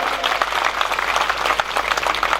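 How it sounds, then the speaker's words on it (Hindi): A crowd claps loudly for ITBP soldiers, a dense, lively burst of applause with rippling peaks that continues the whole time. "एक बार इनके लिए भी बहुत जोरदार तालियां बजाइए।"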